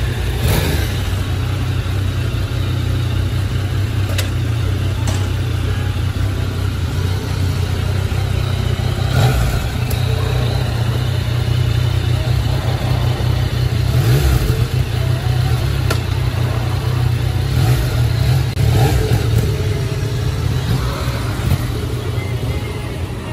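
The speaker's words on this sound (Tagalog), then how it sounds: "Ang gagamitin natin motor, MT09." A 2020 Yamaha MT-09 motorcycle engine runs steadily for over twenty seconds, a loud continuous low rumble with slight rises, heard close at a dealership test-ride area.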